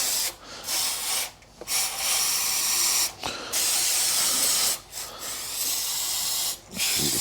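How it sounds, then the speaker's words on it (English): Brake cleaner aerosol is sprayed onto a wood mill engine in several loud, close hissing bursts of uneven length separated by short pauses; nobody speaks. "Just a shot of brake clean to get that"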